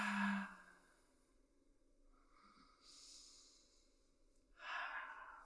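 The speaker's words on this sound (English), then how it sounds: "Deep breath in." A deep breath drawn in during an acupressure session, soft and close: an audible exhale at the start, a quiet pause, then a long airy inhale and a breathy release at the end.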